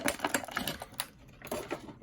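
Action figure packaging is ripped open up close, with quick crinkly tearing and tapping bursts of cardboard and plastic in an uneven rhythm, no talking.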